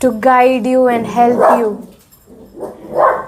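A dog barks and whimpers nearby while a person keeps talking, the yelps rising over the voice in short bursts.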